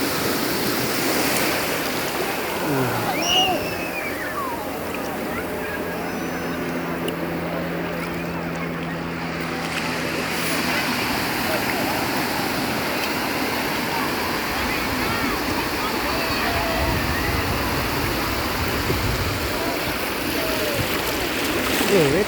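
Sea waves wash in close by with a loud, continuous broadband rush of surf, while a voice speaks now and then over the water.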